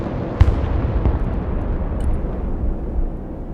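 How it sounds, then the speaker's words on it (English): Heavy artillery fire in the war game Broken Arrow, deep booming blasts with a sharp impact near the start and a rumbling low roar rolling on afterward. "Artillery."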